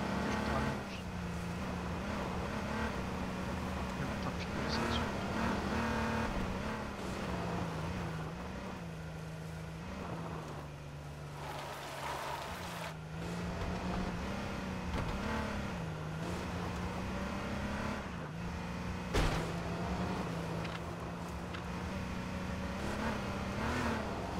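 Cars driving in the online game H1Z1, a continuous engine drone with the pitch rising and falling as the vehicles rev and accelerate, running steadily throughout.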